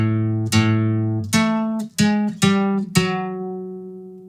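Guitar picking out a melody on a single string, fretted notes including a slide, heard as six or so distinct plucked notes in a steady march rhythm, clear and alone.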